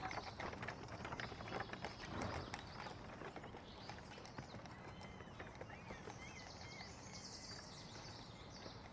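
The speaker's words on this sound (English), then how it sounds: "The yard was quite dark as the horse and buggy entered." Horse hooves clip-clop steadily as a buggy rolls into a dark farmyard, a clear continuous rhythm over rustling background noise with faint bird calls.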